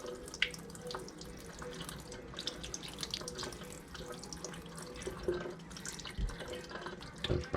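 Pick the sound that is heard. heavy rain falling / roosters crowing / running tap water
running tap water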